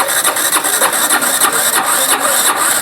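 A KTM Duke 200 motorcycle's electric self-starter cranking a seized, over-revved engine: a loud, continuous whirring churn with a fast rhythmic pulse that never catches, with no voices.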